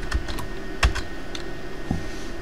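Keystrokes on a computer keyboard while Cisco switch commands are entered, a few separate clicks and taps spread over a couple of seconds, close and fairly quiet with no talking.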